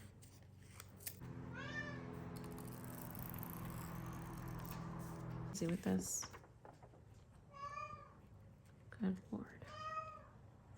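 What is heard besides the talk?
cat meowing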